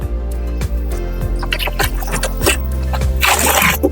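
Salted water is poured out to make silage, a steady near splashing and gurgling that runs throughout and swells into a louder gush near the end.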